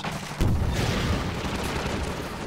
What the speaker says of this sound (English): we're supposed to let the gunship shoot out the roof a little bit and then shoot back at it